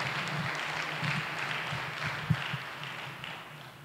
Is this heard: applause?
yes